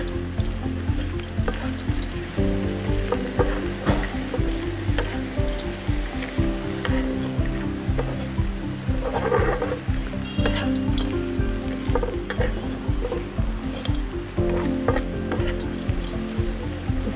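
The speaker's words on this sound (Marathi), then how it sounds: "तर मस्त असे परतून घेऊया एक दोन ते तीन मिनिटे फोडणीमध्ये।" Sandge, dried lentil dumplings, fry in a hot oil tempering with a loud, steady sizzle and occasional stirring scrapes, close up and without any talk.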